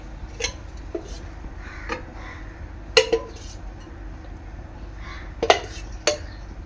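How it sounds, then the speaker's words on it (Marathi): A pressure cooker is set on a stove to heat oil for a quick veg pulao: a few sparse metallic clanks and clinks spread over several seconds, close and fairly quiet, with no talking. "आता इथे मी कुकरमध्ये तेल गरम करत ठेवते"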